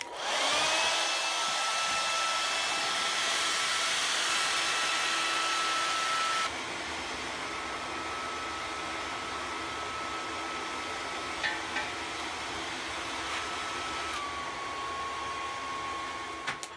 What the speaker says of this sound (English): And it all starts with a blow dryer.